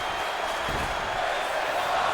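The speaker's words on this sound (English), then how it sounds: "The crowd is ecstatic right now." Arena crowd in the WWE 2K20 wrestling video game cheering during a match, a steady dense roar of voices at moderate level throughout.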